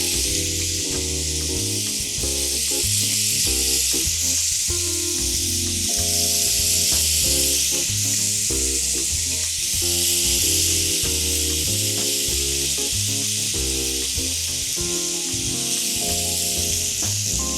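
Yogurt-marinated chicken skewers fry in a heated pan with a continuous, even sizzling hiss, heard under loud background music.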